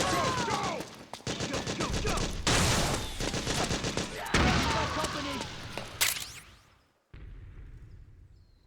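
Rapid bursts of automatic gunfire and explosions in the Metal Gear Solid 4 video game, dense loud volleys with brief pauses, ending in a sudden cut to quieter ambience; shouted voices mixed in.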